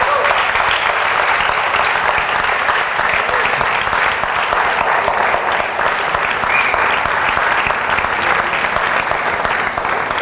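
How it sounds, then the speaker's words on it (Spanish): A church congregation claps loudly and continuously, dense crowded applause that holds steady throughout. "si le vas a dar el aplauso al rey"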